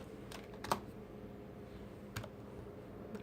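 A few quiet, scattered keystrokes on a computer keyboard while a command is entered in a Linux terminal, sparse clicks over a low room hum, no talk.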